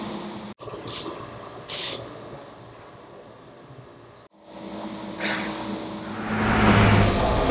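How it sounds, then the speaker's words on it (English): An air chuck on a hose is pressed to a car tire's valve stem, giving short hissing bursts of air and then a longer, louder rushing hiss near the end, close and clear with no talk. "we'll take the air chuck attached to the hose and put it on the valve stem of the tire"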